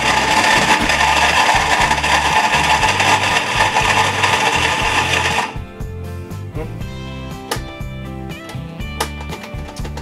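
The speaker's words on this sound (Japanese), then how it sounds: "ミキサーかけます" A kitchen blender crushes bananas and ice for juice, a loud, dense grinding whir that stops abruptly after about five seconds and gives way to clattering and knocks from the jar.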